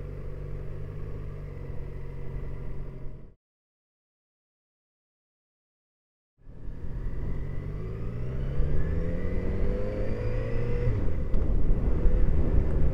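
Yamaha XJ6F motorcycle ridden on a road, its engine hum and wind rumble steady, cutting out to silence for a few seconds, then returning and rising as the bike accelerates.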